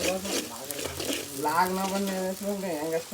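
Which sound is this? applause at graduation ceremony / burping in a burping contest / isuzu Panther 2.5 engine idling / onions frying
onions frying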